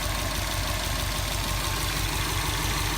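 A 2008 Subaru WRX with a turbocharged 2.5 engine, top downpipe and 3-inch full exhaust idles steadily and loudly with a low, even burble close by.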